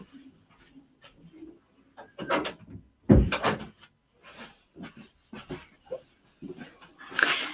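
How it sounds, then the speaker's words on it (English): Door being closed indoors amid scattered household noise. Soft footsteps and small knocks lead to a sharp thud midway, with a dog whimpering faintly and more clatter following. "So I'm going to go close the door."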